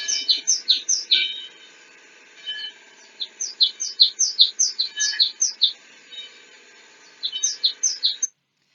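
Bright bird chirps repeat in quick bursts in a park, with a short pause between clusters, fairly close and clear against a quiet background.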